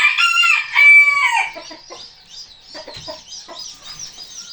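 A rooster crows loudly and close by, followed by softer clucking and scattered chicken noises as the call fades.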